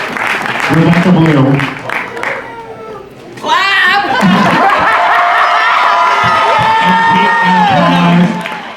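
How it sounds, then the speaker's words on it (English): A studio audience at a drag competition finale applauds and cheers with whoops and shouts, while a voice speaks over the noise at the start and the crowd noise carries on loudly behind it. "Keep that applause going"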